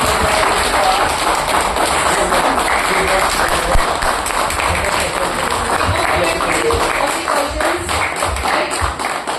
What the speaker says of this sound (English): Big round of applause for our Kalika